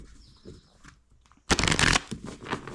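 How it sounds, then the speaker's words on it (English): Tarot cards are handled softly at first, then riffled in a loud, close burst of fast shuffling that tapers into lighter rustling. "So I'll shuffle these up one more time."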